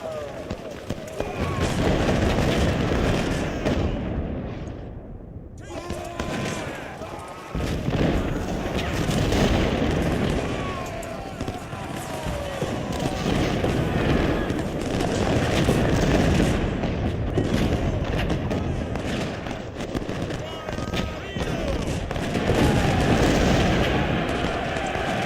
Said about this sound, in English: Possibly an artillery.